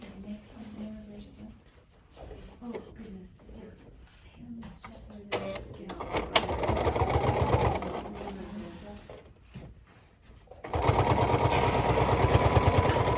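A sewing machine top stitching a mini charm bag hums in uneven stretches, with a louder steady run at the end; people talk over parts of it.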